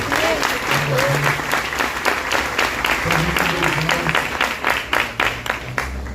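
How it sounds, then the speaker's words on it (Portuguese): A church congregation applauds, a loud continuous wash of clapping with distinct individual claps, while a voice speaks over it and low music or organ tones hum underneath. "Você pode aplaudir Jesus por isso."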